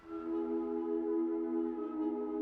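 A tape hollow woods sample with ambience effects plays one sustained, airy chord that swells in and holds steadily, spacious but close, for a couple of seconds.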